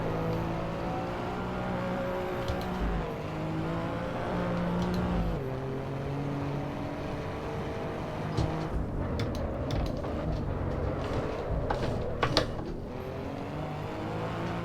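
Race car engine droning steadily in the Assetto Corsa Evo driving game, with shifting revs through corners and a few sharp clicks and knocks near the end, continuous and fairly loud with no talking.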